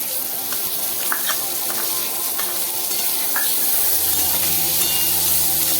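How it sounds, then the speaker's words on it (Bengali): Potato and onion fry in hot oil with a continuous close sizzle, broken by occasional scraping taps of a spatula stirring the pan, and the hiss thickens slightly toward the end. "আলুটা ভেজে নিয়েছি, এবার পেঁয়াজটাও দিয়ে দিচ্ছি"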